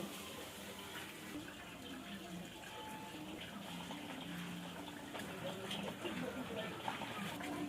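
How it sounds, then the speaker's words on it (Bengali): Water pours steadily into a pot while a shrimp curry is being cooked, a continuous quiet splashing gush that carries on without a break and grows a little stronger toward the end. "জলটা ঠিক আমি এতটা দেবো সেদ্ধ হওয়ার জন্য, আমি ঝোল করব।"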